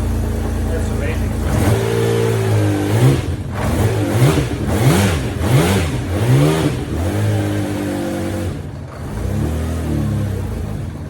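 A Honda CBX 1000 motorcycle engine, freshly rebuilt, revs up and down several times in quick succession, loud and close, its pitch climbing and falling with each throttle blip.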